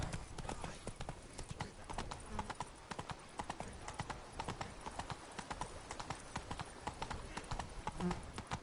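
Roach the horse's hooves clip-clop at a steady, continuous walking rhythm in The Witcher 3: Blood and Wine, fairly close and even throughout.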